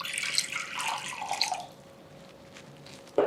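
Water runs from a tap into a bowl for soaking chicken, a bright splashing stream for about a second and a half that then stops, leaving faint drips and room quiet before a short knock at the end.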